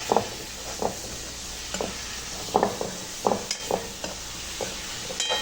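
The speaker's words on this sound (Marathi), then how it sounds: "आपण याच्यात डाळ ॲड करणार आहे" Lentils going into brinjal masala frying in a pan, with several soft scraping stirs and light clinks spaced through a steady low sizzle, close up and with no voices.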